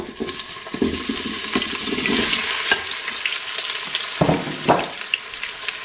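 Potato pieces tossed into hot olive oil in a Cookeo multicooker sizzle and crackle steadily, close and fairly loud, with a few sharp clicks and stirring knocks; no voices.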